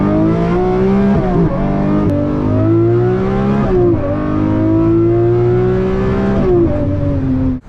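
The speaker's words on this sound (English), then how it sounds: "With a top speed of 213 miles an hour and a screaming naturally aspirated V12" A Lamborghini Murcielago SV with a naturally aspirated V12 revs loudly up close, its howl climbing in pitch through several gear-like rises and dips before cutting off sharply.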